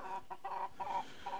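A Silkie hen clucks softly in short broken bursts while being held up close, a low murmuring chatter without talk.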